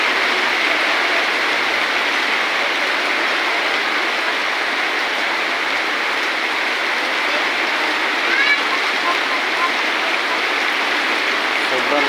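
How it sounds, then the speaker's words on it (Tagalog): A heavy downpour pours steadily, a dense, loud, unbroken hiss of rain heard from shelter beside a house that fills the whole stretch without letting up. "Sobrang lakas ng ulan, oh."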